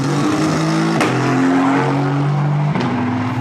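Formula 1 race cars exiting the last corner onto the start-finish straight, loud close engine whine climbing through gears with sharp shift drops, a second car following in, no talking.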